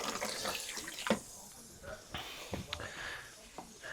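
Water discharging from a XERO Pure Plus purification system, a thin running stream that hisses and splashes steadily, broken by a few sharp knocks and clicks, fairly quiet and close.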